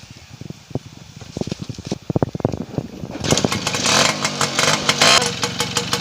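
A motorcycle engine sputters in uneven pops, then revs into a louder, sustained rasping drone close by, set in a rural village.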